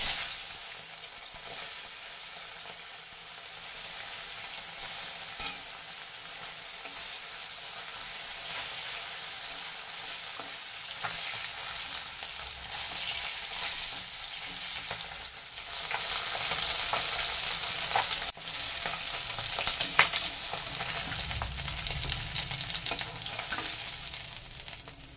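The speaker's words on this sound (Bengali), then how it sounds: "নুন হলুদ মাখা মাছগুলো, এইগুলোকে আমি এক এক করে এই তেলের মধ্যে দিয়ে ভেজে নেব" Fish coated in salt and turmeric fries in hot mustard oil with a steady, close sizzle that grows louder and denser partway through, and no talking.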